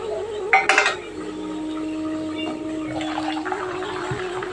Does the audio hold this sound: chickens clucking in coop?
no